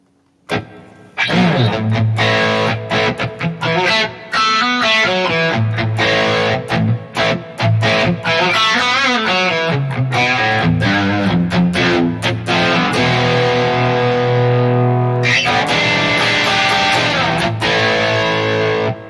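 Heavily distorted electric guitar through a Fractal Audio Axe-FX III Brit Studio 20 amp model plays loud, crunchy chords and riffs continuously, with a bright, trebly edge and short gaps between phrases.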